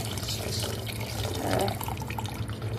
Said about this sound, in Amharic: 1 ሊትር ውሃ ጨመርኩኝ ማለት ነው